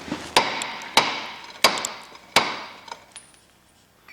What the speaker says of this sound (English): That doesn't work. Get a hammer.